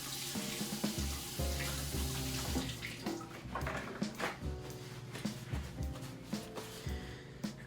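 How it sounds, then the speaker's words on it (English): Hands being washed under a running kitchen tap, water splashing and gurgling into the sink with shifting, uneven bursts as the hands move through the stream, close and fairly quiet, with no talking. "I'm going to wash my hands off first"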